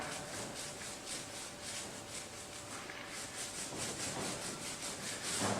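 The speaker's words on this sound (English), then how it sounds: "I usually just rub my roller up and down, just to make sure I've got a fairly even application" A paint roller rubbed up and down over a surface, laying paint evenly: a steady run of soft, rhythmic rasping strokes, close and fairly quiet, with no talking.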